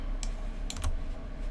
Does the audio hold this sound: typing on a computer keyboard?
yes